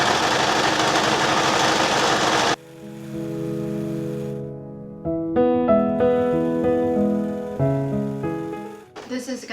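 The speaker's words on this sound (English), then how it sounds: "next I'm going to sew these ruffles, gather these ruffles, and I'm gonna gather them first, gather these ruffles and sew them to the bottom of the dress" A sewing machine stitches gathered tulle ruffles onto the bottom of a doll dress, starting after a burst of broadband noise and running in uneven bursts with short pauses and changes of speed.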